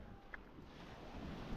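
Sea waves wash onto Cala Millor beach in Mallorca, a brief, constant rushing surf of small waves mixed with wind buffeting the microphone.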